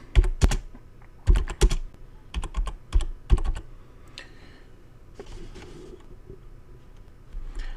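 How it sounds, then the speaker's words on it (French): Typing on a computer keyboard while entering a heading in a page block editor: clustered bursts of crisp, close key clicks in quick runs over the first half, then quieter, sparse taps. "Je vais donc écrire"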